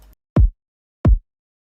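Two deep, punchy kick drum thumps spaced about seven tenths of a second apart, dry and isolated.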